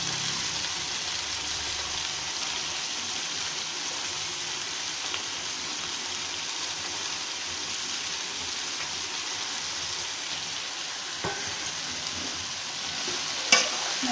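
Mint and coriander leaves go into a hot pan for mint chutney, giving a steady even sizzle throughout with a few faint stirring scrapes and clicks near the end.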